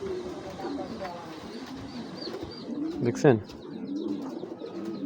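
A male super mili racing pigeon coos softly among other birds while someone talks over it, and a sharp call or rustle cuts in briefly midway.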